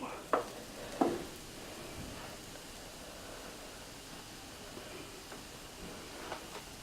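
Keto French toast cooks in a pan with a soft, steady, hiss-like sizzle, broken early by two brief knocks and a few faint clicks.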